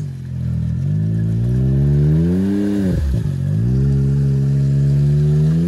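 A Can-Am Maverick X3 side-by-side engine revs up, climbs to a loud sustained drone, dips sharply for a moment, then builds and holds again, close and steady without voices.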